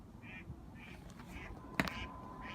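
A duck quacks repeatedly in short nasal calls at a steady rhythm, moderately near, with a sharp knock heard once among them.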